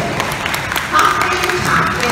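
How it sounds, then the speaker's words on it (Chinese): Audience clapping at a primary school graduation presentation, a short burst of applause from a seated crowd, moderately loud and steady throughout. "我们用掌声"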